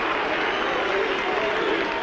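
Dense stadium crowd cheering and applauding continuously at a 1989 Neath versus All Blacks rugby match after a Neath penalty goal, a loud sustained roar with no break.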